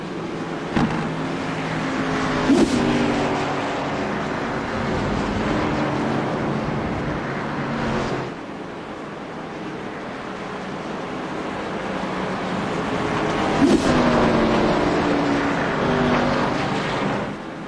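Simulated NASCAR Cup cars idling along at Watkins Glen on a warm-up lap behind the pace car, a steady engine drone with a couple of gear-change whines and swells as cars pass, no talking.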